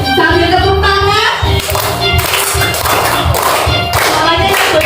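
A group of students stands and sings a children's song about the food chain, clapping hands roughly in time as they sway. The claps are steady, close and loud, mixed under the singing voices.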